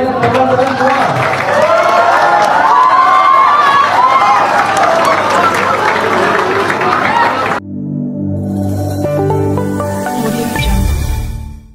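An audience of Indonesian students in Jordan applauds and cheers at an evening talk, a loud, dense wash of clapping and crowd noise for about seven seconds before it cuts abruptly to music.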